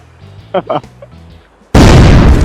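A grenade detonates in the video game Hand Simulator, a sudden loud broadband blast that slams in after a quiet stretch of soft game sounds and a couple of brief voice bursts, then holds at full loudness.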